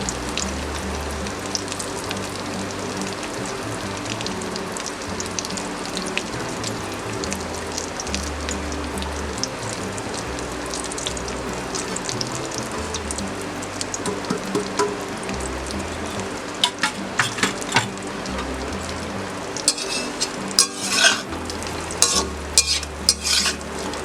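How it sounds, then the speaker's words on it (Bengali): Eggs fry gently in a pan for an egg dhokar dalna while a utensil stirs and scrapes through them, a steady soft sizzle broken by repeated clicks and scrapes, with no talk. "কিন্তু তবু আমি একটু হালকা ভেজে নেব।"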